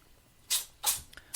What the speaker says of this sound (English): the cat's just sneezing like mad today